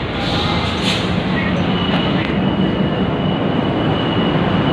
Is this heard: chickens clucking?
no